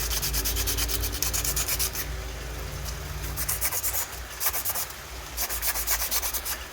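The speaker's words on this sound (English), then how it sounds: "you're literally scratching up the surface, taking away the shine, leaving only the dull portions." A G10 Batapult part is scuffed by hand to dull its shiny surface, giving a continuous, close, gritty rubbing like sanding with brief rhythmic pulses and no voices.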